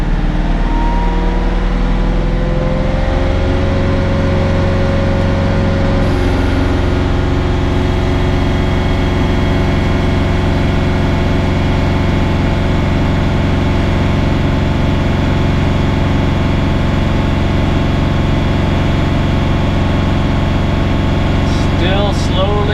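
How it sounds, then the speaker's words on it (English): A Bobcat tractor engine with hydraulic trouble runs loud and close, its steady droning roar rising in pitch as it is throttled up to full and then holding a constant heavy hum. "So I'll go up to full throttle."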